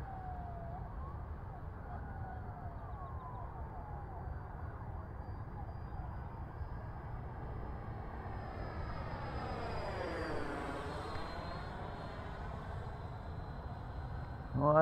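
HSD Super Viper T-45 model jet flying overhead with a steady turbine-like whine and roar, its pitch sweeping down then up as it passes, moderately distant, with no talk.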